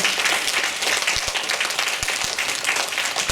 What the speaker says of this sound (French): on va l'applaudir bien fort